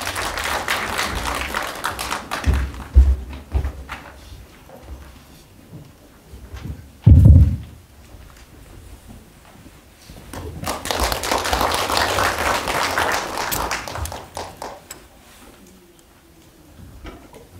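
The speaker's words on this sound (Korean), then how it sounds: "큰 박수로 맞이해 주시면 감사하겠습니다" Broadband audience applause at a public debate forum swells and sustains for several seconds, fairly loud and close, then fades out; no speech over it.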